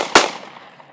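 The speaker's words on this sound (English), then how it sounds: "I'm gonna shoot that." A single sharp gunshot outdoors, loud and close, followed by a fading echo tail and nothing after.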